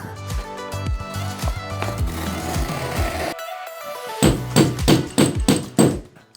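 Steady, rapid hammer blows knock against a panel, a dense run of thuds followed by a pause and several louder, heavier strikes.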